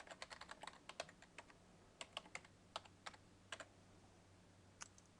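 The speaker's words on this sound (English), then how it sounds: "follow that link to the login webpage and type in your username and password provided" Login details typed on a computer keyboard: sparse clusters of crisp, close key clicks in short irregular bursts with pauses between them, no voices.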